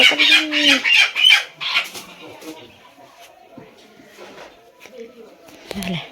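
A hen's loud agitated clucking and squawking up close as it is caught at the start, settling into quieter village background sounds with a brief voice near the end.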